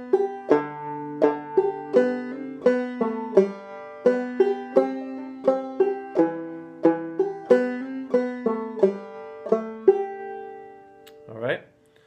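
Guitar picks out the B part of the fiddle tune Blue Goose as a low part, a steady run of clear plucked notes ringing alone with no talk, ending in a quick upward slide.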